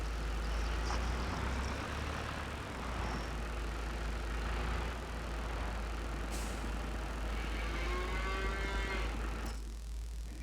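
Cattle mooing in the Farming Simulator 22 video game on a dairy farm, several drawn-out lowing calls over a constant low engine hum, with a brief air-brake hiss near the end and no talk.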